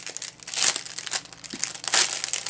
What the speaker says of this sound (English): Now there will be a crinkle alert on here because I'm crinkling the papers.